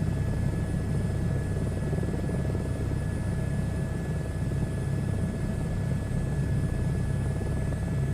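Simulated helicopter engine and rotor in Microsoft Flight Simulator 2024, heard from inside the aircraft as a steady, constant whine and drone with even rotor thrum, continuous and unvarying, with no talking.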